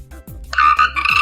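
A cartoon frog croaking in a short, loud, close burst of two or three rhythmic croaks, with no talk over it.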